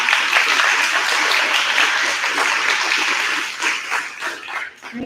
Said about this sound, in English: I'd like to give a big round of applause for all the candidates